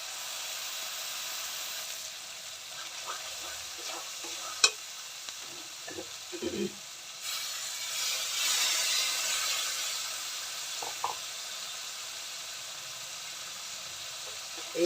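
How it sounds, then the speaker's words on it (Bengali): Spice masala for methi chicken sizzles in a pan while being stirred, a soft steady frying hiss with a few scrapes and clinks, fairly quiet and close. "মশলাটাকে ভালো করে কষাতে হবে।"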